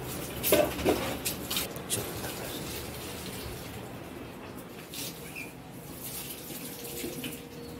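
Water runs from a tap while a village courtyard is being washed, a soft steady splashing stream with a few louder knocks and splatters early on, fairly quiet and without speech.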